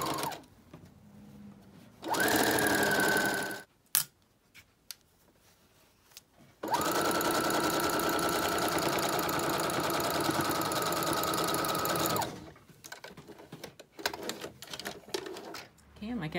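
A sewing machine stitches a fabric strap seam in two loud, steady whirring runs, a short one and then a longer one, with quiet handling gaps before, between and after them.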